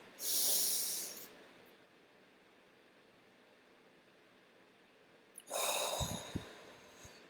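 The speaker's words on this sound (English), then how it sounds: "Deep breath." A slow, deep breath: a loud, airy inhale at the start, a long quiet hold, then a breathy exhale with small puffs near the end.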